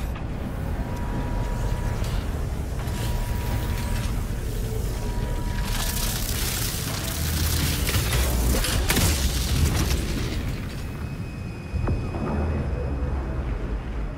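The project assembly launch in the video game Satisfactory rumbles loudly and continuously, with deep booming thrust, swelling roar and crackling bursts building through the middle and then settling.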